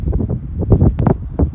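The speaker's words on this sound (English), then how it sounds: "I'm sorry it's so windy." Wind gusting across an upstairs balcony garden with raised beds, a rough low rumble of buffeting against the microphone with short rushing bursts, loud and close throughout.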